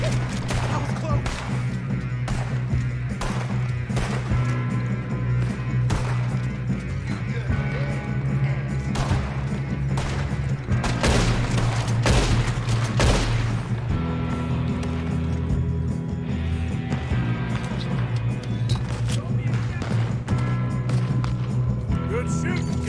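Gunfire in Red Dead Redemption 2, sharp shots popping out over a dense, steady bed of game music and ambience, with the loudest burst around the middle of the stretch.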